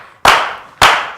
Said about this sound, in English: can we slow clap this king in,